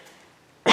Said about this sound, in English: Was that a Corona cough?